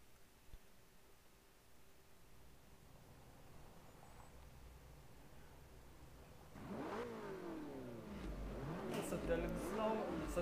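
In the Forza Motorsport 3 demo on Xbox 360, with a Ferrari in the race, things start near silent, then race car engines rev up with rising, sweeping pitch that grows louder toward the end.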